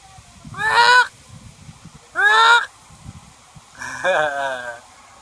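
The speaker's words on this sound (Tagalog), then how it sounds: "ito yung mga gansa" Geese honk loudly three times at Manila Zoo, harsh nasal calls spaced about a second apart, close by with quiet background between.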